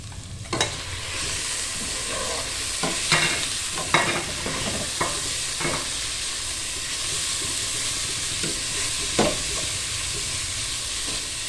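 Meat sizzling and frying in a pan over golden onions for Palestinian stuffed cabbage, with steady hiss and several sharp scrapes and clanks of a spoon stirring, close and fairly loud, no talking.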